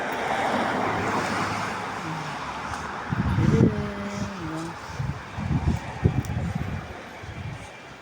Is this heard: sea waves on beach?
yes